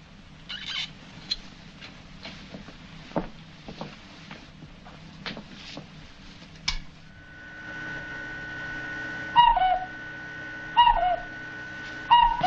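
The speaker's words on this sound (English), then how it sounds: "It's a bird." A cartoonish bird call sound effect, a series of bright warbling chirps repeated in short bursts, stands out over a humming steady background in a vintage Three Stooges comedy scene, preceded by scattered small thumps and clicks.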